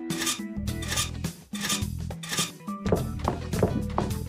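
Sawing in the Neighbours From Hell video game: repeated rasping strokes in bursts, loud and close, broken by thunks and clinks over a steady musical game background.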